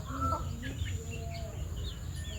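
Chickens cluck in a rural Javanese setting, a few short clucks and calls rising over a steady low background hum, with no talk.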